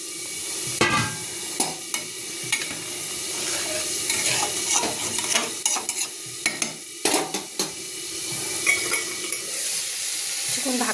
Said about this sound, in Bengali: ঝোলটা ফুটে গেছে, এবার ডিমগুলো দিয়ে দেবো সব।